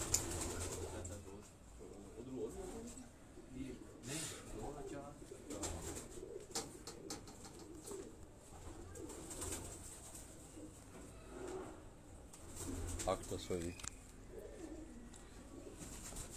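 Nag pigeons give soft, low cooing calls, close and fairly faint, repeating throughout amid rustling, while people talk quietly in the background.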